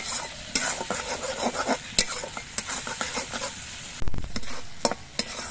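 Spices sizzle and fry in oil for a koi fish curry while a spatula stirs and scrapes the pan, a steady crackling hiss broken by irregular metallic clinks, close and fairly loud.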